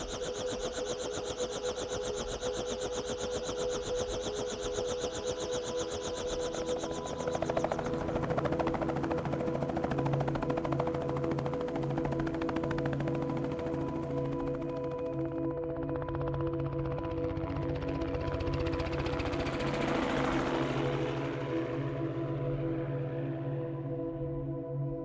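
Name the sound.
helicopter flying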